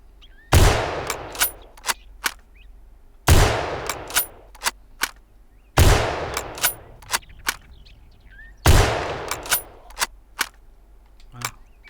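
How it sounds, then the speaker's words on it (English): Four loud, evenly spaced gunshots fired at a zombie boar in a video game, each sharp blast trailing into a decaying boom and followed by a few quick clicking reload or ejection ticks, with no talking. "5 shots to bring him down."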